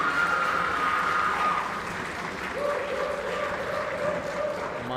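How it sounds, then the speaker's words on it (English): Crowd applause fills the space at the close of a fencing finals match, a steady wash of clapping at moderate level with faint tonal sounds in the background and no clear speech. "Let's give the fencers another round of applause."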